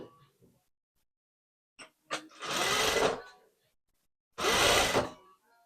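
A sewing machine stitches the armhole and front panel of a criss-cross top, running in two loud bursts of a few seconds each. Brief clicks and handling noises come between them, with near silence otherwise.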